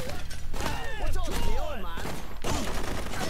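Automatic gunfire in the Blue Estate shooter on PS4, with dense rapid bursts mixed with game effects and chaotic action, while someone talks over the shooting.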